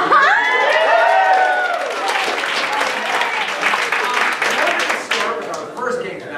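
Audience at a live comedy show cheering and applauding loudly for a middle school group, with dense sustained clapping and whoops throughout, a few shouted voices rising over the crowd early on.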